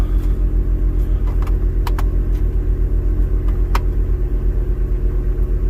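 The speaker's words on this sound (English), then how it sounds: "Next thing we're gonna do is start up the car." A car engine idles with a steady, loud low rumble close by, a few faint clicks sounding over it, while the car sits during a heater blower motor and resistor repair in cold weather.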